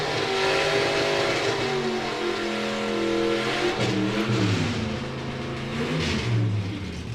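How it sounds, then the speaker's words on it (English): A junior fuel dragster revs at a drag racing event, its engine roaring loud and steady with rising and falling pitch sweeps over crowd and track noise, no talk. "it's that little car there that looks like a junior fuel car"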